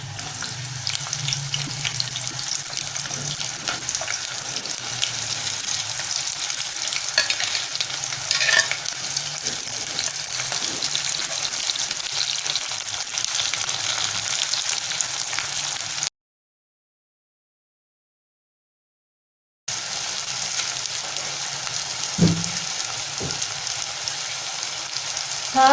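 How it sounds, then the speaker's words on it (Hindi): Two large, thickly cut onions fry steadily in hot oil toward light brown, a continuous close sizzle with occasional stirring scrapes, broken by a brief silent gap before the frying resumes. "2 बड़े साइज के प्याज मैंने इस तरह से मोटे मोटे इस तरह से काट लिए हैं, और अब मैं इन्हें लाइट ब्राउन कर दूंगी"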